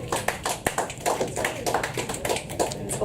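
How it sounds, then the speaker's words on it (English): Audience applause following a poem read aloud at a poetry reading, a dense spread of hand claps sustained for about three seconds with no talking over it. "It's also different to get applause after each poem."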